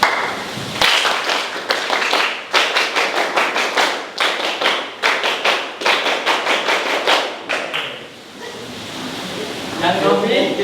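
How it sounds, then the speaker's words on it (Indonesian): A class of students at a vocational school claps their hands loudly in repeated bursts, sharp dense volleys separated by brief pauses, with chatter rising near the end. "Kalau saya tepuknya 2 kali, kalian tepuk tangan yang kencang"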